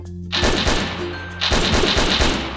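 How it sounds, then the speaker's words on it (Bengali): Gunfire in a Bangladeshi GTA-style mobile video game: two loud bursts of rapid automatic shots, the second longer, crackling close and alone. "চান্দু হেডশট মারুম।"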